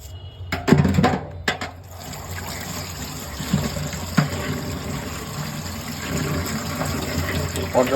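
Water pours and trickles over frozen crabs being washed, a steady running flow with a few sharper splashes and knocks, a voice speaking briefly near the start.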